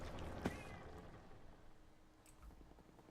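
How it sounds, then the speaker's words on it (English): A house cat gives a single short, fairly loud meow near the start, then the background falls to quiet, low-level noise. "I think my cat's yelling at me."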